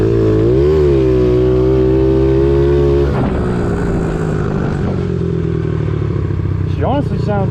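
A Honda CRF50 dirt bike with a big bore engine, running on jet fuel with octane booster, revs loud and close, the pitch climbing and holding high, then dropping into choppy, clattering revs that flare up again near the end.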